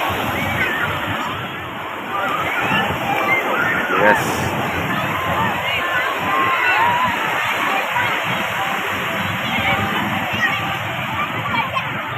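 Beachgoers bathing in the sea at Krui beach, West Lampung, with steady water sloshing and splashing mixed with a nearby hubbub of voices throughout.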